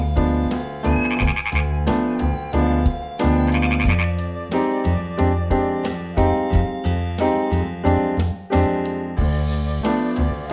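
Frogs croak at a lotus pond in a loud, rhythmic series of repeated throaty calls, each burst following close on the last with short gaps between, and no voices.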